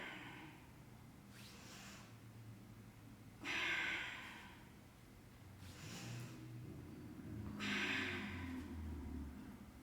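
Slow, deliberate breaths during a Pilates mat exercise: four audible inhales and exhales, soft and close, evenly spaced with quiet pauses between.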